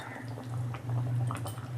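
A pot of shukto, a Bengali vegetable curry, simmers softly on a gas stove, giving a low, steady bubbling with faint pops, quiet and close.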